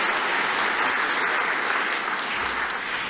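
Dense, steady applause from a large audience at a Melbourne Polytechnic graduation ceremony, an even roar of clapping held at full strength from start to finish with one or two brighter claps near the end.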